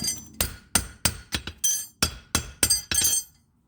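A hammer knocks a steel horseshoe in an anvil's hardy hole during horseshoeing: about ten sharp ringing metallic strikes in an uneven rhythm, loud and close, each with a short bright ring.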